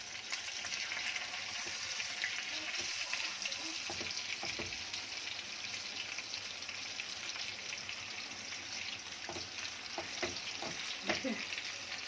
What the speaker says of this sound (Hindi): अब इसको फ्राई कर रही हूँ फास्ट गैस पर